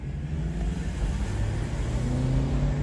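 A car idling close alongside another vehicle on the road, a steady loud low engine rumble with faint rising tonal lines as it pulls up, no voices.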